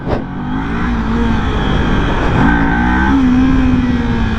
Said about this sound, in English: You have to get the motor RPMs up.